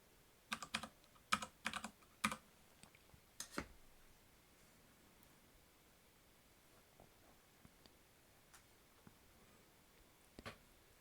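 Keys on a computer keyboard tap out an authentication code: a quick cluster of crisp clicks at the start, then scattered faint taps and one last pair of presses, in a quiet room.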